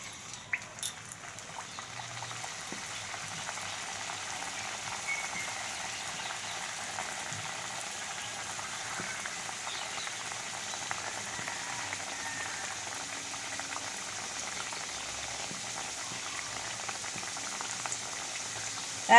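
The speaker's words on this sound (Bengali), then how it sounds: "এবার আমি পুরিগুলোকে দিয়ে দেবো।" Pea-stuffed kochuri puris fry in hot oil in a wok, giving a steady, fairly quiet bubbling sizzle that runs evenly throughout with no voices over it.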